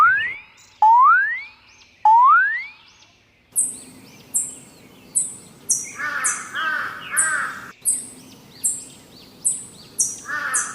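Cartoon crow cawing in an animated story about a mango-stealing crow, with repeated loud caws alongside cartoon boing and whistle-like sound effects in a steady rhythm.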